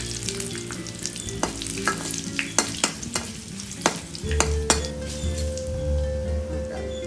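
Dried red chilies and fenugreek seeds frying in hot oil, a close sizzle with repeated metallic clinks and scrapes of a spoon stirring the pan, no voices.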